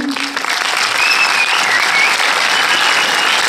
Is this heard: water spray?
no